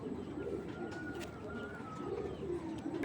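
Soft, low cooing of a female racing pigeon, a 2023-banded bird, repeated in a couple of gentle rolling phrases, close but quiet over a faint steady background.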